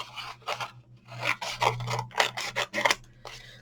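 Scissors cutting away excess card from a gift box, a series of crisp close snips and rasping slices in irregular bursts, with quiet pauses between cuts and no talking.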